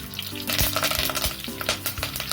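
Bay leaf, small green and big black cardamom and curry leaves splutter in hot oil for a Kerala-style mutton curry, a dense steady sizzle broken by quick pops and a few utensil clinks, close and loud with no talk.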